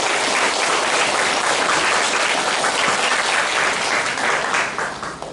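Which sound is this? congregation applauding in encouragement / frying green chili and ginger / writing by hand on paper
congregation applauding in encouragement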